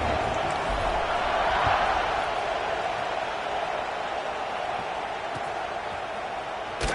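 Stadium crowd roaring steadily at a college football game between FSU and Cal, set for the kickoff, a broad sustained wall of noise that holds loud throughout with no one speaking.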